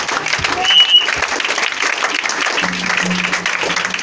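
A church congregation breaks into applause for Jesus during a communion service, a dense burst of clapping that stays steady and close with voices mixed in.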